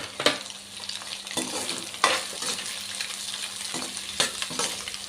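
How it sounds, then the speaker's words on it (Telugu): Chicken and egg frying together for restaurant-style chicken fried rice hiss steadily in a hot pan, while a spatula scrapes and taps the metal every second or so; no one speaks. "ఇలా కలుపుకుంటూ ఒక 2 మినిట్స్ ఇలా ఫ్రై చేసుకుందాం."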